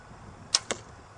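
A 2008 Bowtech General compound bow releases an arrow with a short sharp twang followed quickly by a second soft thwack, brief and quiet against a faint background.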